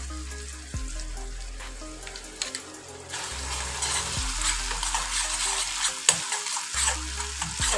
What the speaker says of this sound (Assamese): এইখিনি অকণমান সময় ভাজি ল'ম।